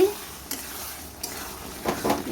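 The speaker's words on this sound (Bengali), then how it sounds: "একটু ভালো করে নাড়াচাড়া করে নামিয়ে ফেলবো" Bottle gourd curry stirred in a pan, a low simmering sizzle with a few light scrapes and clinks of a spoon against the pan, close and moderately quiet.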